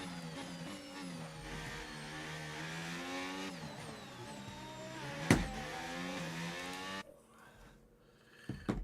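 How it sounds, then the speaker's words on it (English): An Alpine Formula 1 engine in the racing game F1 25 revs with a steady, high-pitched whine that climbs through the gears. A sharp click cuts in near the middle, and the sound drops off abruptly toward the end. "the Alpine engine just sounds best, doesn't it?"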